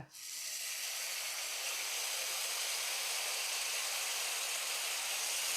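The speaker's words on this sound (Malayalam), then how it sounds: "ഇനി നമ്മൾ ഇതിലേക്ക് പുളിവെള്ളം ഒഴിച്ചു കൊടുക്കുന്നേ" Tamarind water hits a hot pan of ginger, shallots and chillies, bursting into a loud, even hiss that holds steady throughout.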